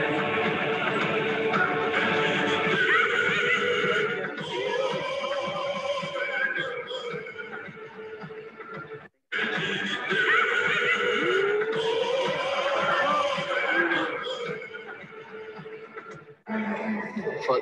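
Horses neigh and whinny amid a crowded, noisy field during a Central Asian carcass-dragging game on horseback, with people talking over the steady din throughout.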